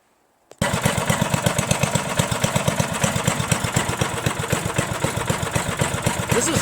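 A lawn tractor engine starts up abruptly and settles into a steady, loud, close idle with an even chugging pulse that runs unbroken to the end.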